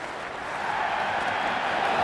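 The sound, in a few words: cricket crowd applauding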